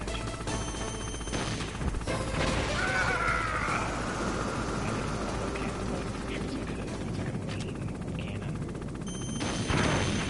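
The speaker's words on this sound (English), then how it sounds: "He starts shooting his auto cannon at you." Enemy autocannon fire in a video game battle, a continuous heavy barrage of rapid thudding shots with crashes and a mechanical whine layered over a steady roar, loud and sustained across the whole moment.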